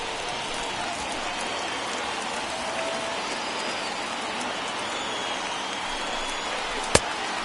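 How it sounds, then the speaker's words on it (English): Heavy rain pours steadily onto a baseball field in a video game, a dense, unbroken hiss at even loudness with one sharp click near the end. "Really starting to pour now, and the forecast is not showing any signs of a break in the weather."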